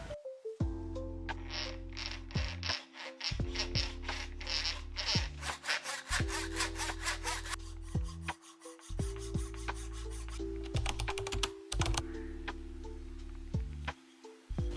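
Hand saw cutting through a hard walnut block in a workshop, close rhythmic back-and-forth strokes with rasping, gritty wood texture repeating steadily throughout.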